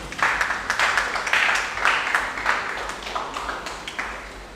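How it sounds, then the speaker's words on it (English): Audience at a live-streamed event gives a round of applause for a radio station manager, a loose, uneven patter of scattered claps that swells early then gradually thins and fades. "Please, a round of applause for him."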